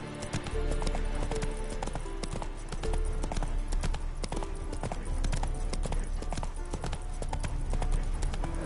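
Horse hooves clip-clop steadily at a walk in the video game Witcher 3, a close, regular rhythm of hoof strikes over a constant ambient bed with light game music.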